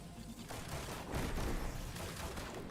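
Destiny 2's Tractor Cannon fires in a heavy, muffled blast, a surge of dense rumbling impact that swells and fades amid constant gameplay noise.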